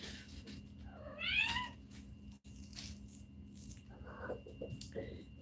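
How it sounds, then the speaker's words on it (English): A pet cat gives a short rising meow while at play, fairly close and moderately loud over a steady low room hum, followed by faint rustling and small soft movements. "My cat's playing."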